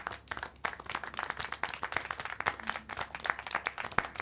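Several hands clap in a sustained, dense patter of applause, fairly close and lively, in a scene from Syberia: The World Before.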